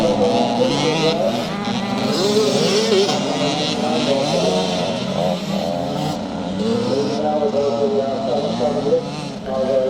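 Small kids' scramble motorbikes racing around a muddy track at a charity event in Northern Ireland, their engines droning and revving continuously under a steady commentator's voice.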